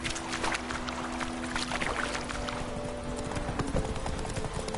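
A horse clip-clops at a steady pace in The Witcher 3, its hoofbeats a continuous rhythmic patter over faint ambient game sound and a low hum.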